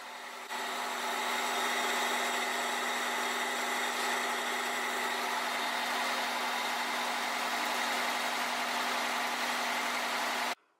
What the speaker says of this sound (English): You gotta rev the engine.